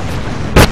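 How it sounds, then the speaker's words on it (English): Enemy gunfire in Ratchet and Clank 3: Up Your Arsenal lands as a single sharp, loud blast over a low rumbling game background. "Stop shooting at me."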